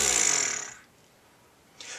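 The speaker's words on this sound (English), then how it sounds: "Brass instruments create sound by buzzing our lips like this." Lips buzz the way brass players such as trombonists start a note, giving a loud raspy buzz that fades over the first moment, then a short quiet stretch and a brief soft burst near the end.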